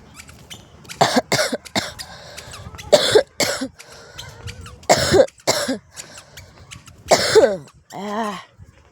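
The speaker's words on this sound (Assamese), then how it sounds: "কাহি কাহি হালত খাৰাপ" A series of sharp coughs in separate bursts, several single hacks and a couple of doubled ones, close and fairly loud, ending with a hoarse throaty wheeze.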